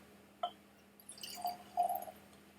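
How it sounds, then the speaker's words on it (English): Highland Park Valfather Orkney single malt Scotch whisky pours smoothly into a glass with no glugging, making a faint, brief trickle and a few soft drips in a quiet room. "Oh, it pours very easily."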